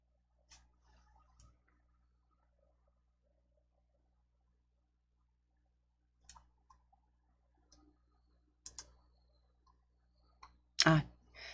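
Sparse, sharp computer mouse clicks, including a quick double-click, separated by long near-silent gaps in a quiet room, with the loudest click burst at the very end.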